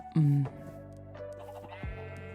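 A single short, wavering sheep bleat in Minecraft sounds near the start, followed by steady background tones and faint voice.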